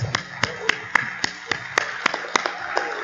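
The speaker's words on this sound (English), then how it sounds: "let's give them a clap" Sparse, evenly spaced claps ring out in a steady rhythm in an auditorium during an awards moment at a scouting event, sounding like a small group or a single clapper close to the microphone.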